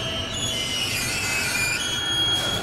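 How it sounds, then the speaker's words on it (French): A freight train passing through a tunnel toward a waste plant gives a continuous heavy rumble with high metallic wheel squeals over it, loud and close throughout. "Tous les jours, ce sont en moyenne 5 trains de 4 wagons qui transitent par cette ligne ferroviaire."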